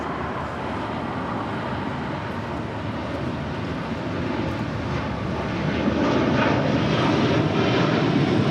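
A Boeing 787 Dreamliner jet rolls down the runway for takeoff at LAX, a steady broadband engine roar from a distance that swells louder toward the end.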